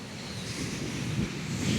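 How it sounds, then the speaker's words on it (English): Ocean waves break at Jennette's Pier in Nags Head, North Carolina, making a steady, continuous roar of surf mixed with wind buffeting the microphone, with no voices. "I'm gonna try to get some close-ups of those waves"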